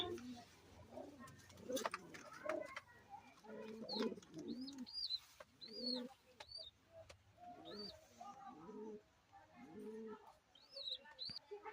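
A pair of Lotan pigeons at a pigeon loft cooing in repeated soft throaty phrases, up close, with other bird chirps and someone speaking intermittently between and over the calls.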